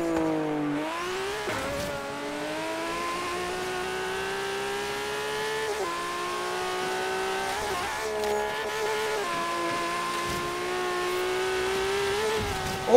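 A 700-horsepower Nissan Skyline GT-R R32 screams through a race in Forza Horizon 3, engine holding a loud, high sustained whine with brief dips and climbs between gear changes and throttle lifts.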